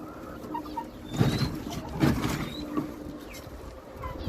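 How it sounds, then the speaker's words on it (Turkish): Pigeons kept outdoors make soft bird calls and coos amid a steady low background hum, with a few louder bursts of fluttering or movement and no talk. "Bunlar dışarıdaki güvercinlerimiz."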